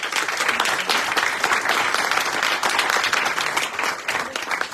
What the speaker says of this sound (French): je voudrais vous demander un tonnerre d'applaudissements pour Ben Simon.